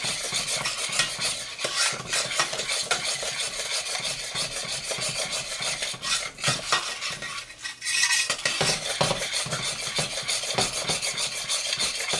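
Boiling fudge mixture is stirred in a stainless steel pan, with a steady rasping scrape of the utensil against the metal and a bubbling, sizzling bed beneath, briefly dipping before resuming.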